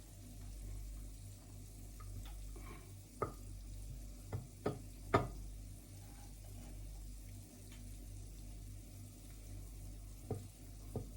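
Fried rice with garlic, eggs and spring onions sizzling quietly in a pan, a low steady frying hiss broken by a few sharp clinks and scrapes of stirring.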